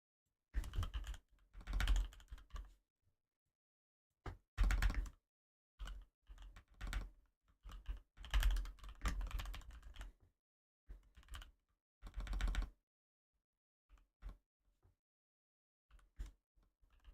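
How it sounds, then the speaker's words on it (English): Computer keyboard typing comes in scattered bursts of rapid, close key clicks separated by short silences, quiet and dry with no talk. "probably hearing every single key on that keyboard."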